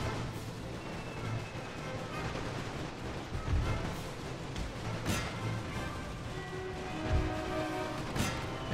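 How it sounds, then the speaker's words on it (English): Mortar and howitzer fire in The Great War mod battle, with dull booms and sharper cracks scattered over several seconds above a continuous roar of combat. "the mortars and the howitzers are just too much for him to handle"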